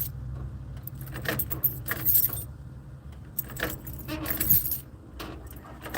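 Car keys jangle and clink in several bursts over about six seconds, close and fairly bright, with a low engine-like hum steady underneath; no talking.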